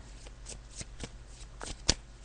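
Tarot cards being shuffled by hand, close and soft, in a series of quick riffling bursts with one sharper snap near the end.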